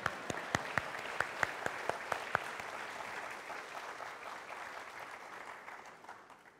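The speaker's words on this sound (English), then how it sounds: "You can clap." Lecture audience applauding after a talk on Vedanta, a brief burst of sharp individual claps at the start that blends into steady, moderately distant clapping and slowly fades out.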